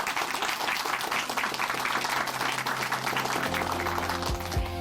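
Church congregation applauding a brother after his testimony, dense continuous clapping from a large crowd, with music starting underneath in the final second.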